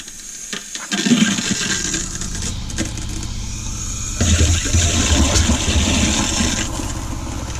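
Cold water rushing from a kitchen faucet in a Flagstaff E-Pro E20BHS travel trailer during de-winterizing, a steady hiss and splash with sputtering bursts as air clears, close and without talk.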